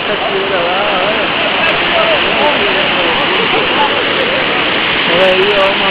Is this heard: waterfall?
yes